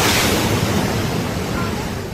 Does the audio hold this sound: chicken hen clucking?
no